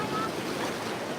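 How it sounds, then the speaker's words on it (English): Ocean waves breaking over sharp rocks at Playa Conchal beach, a brief near wash of surf with wind buffeting the microphone and no clear talk. "There's a really good wave break right here"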